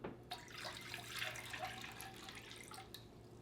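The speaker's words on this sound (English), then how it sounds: "in a large bowl, we're going to add 6 cups of cold water" Cold water runs steadily into a large mixing bowl for potato chips, a soft continuous splashing and trickling at low level with no talking.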